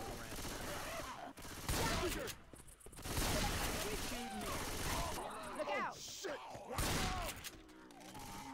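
Rapid gunfire in the zombie shooter Left 4 Dead 2, The Parish level, dense bursts of shots and mechanical clatter running continuously, with a voice talking over the shooting.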